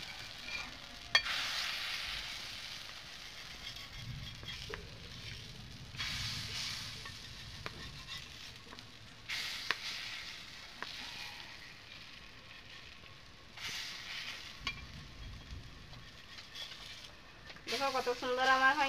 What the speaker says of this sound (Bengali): এই সাইডটা আমি এরকম ভাবে লাল লাল করে এরকম ভাজে নিব